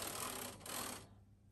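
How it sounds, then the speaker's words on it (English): A lace carriage sliding onto the needle bed of a Brother 970 knitting machine, a brief close mechanical whir and rattle that fades after about a second, with no talk. "now we can bring the lace carriage onto the needle bed"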